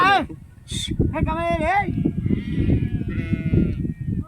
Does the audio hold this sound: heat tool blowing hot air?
no